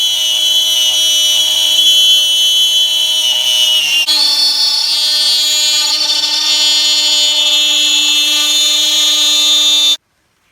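Power saw cutting the edges of a live-edge wooden cowboy hat, a loud continuous high-pitched whine with a steady tone that shifts slightly midway and cuts off abruptly near the end, with no talking.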